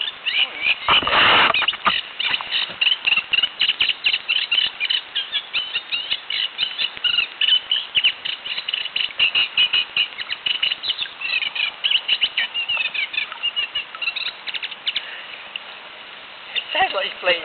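A noisy bird calls repeatedly beside the River Arun, giving busy chirps and trills at moderate distance over outdoor background noise, with a brief louder burst near the start.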